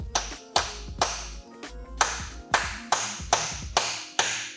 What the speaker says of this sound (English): I need to tap this into place